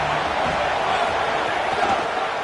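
Stadium crowd at a football game, a dense and steady roar of many voices that stays loud and even for the whole stretch, with no single voice standing out.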